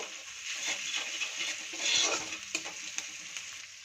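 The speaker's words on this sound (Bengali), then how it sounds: "আদাটাকে একটু হালকা একটু কড়াইতে তেলে নাড়িয়ে নেব, একটু ফ্রাই করে নেব" Ginger paste fries in oil in a wok with a bright sizzle, broken by several stirring scrapes and clicks over a few seconds, nearby and fairly quiet.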